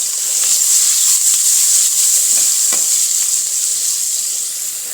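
Green chili pieces sizzle in hot oil with dry spices, red chili and curry leaves during tempering for sambar, a loud, steady frying hiss up close with a few sharp spatters and crackles.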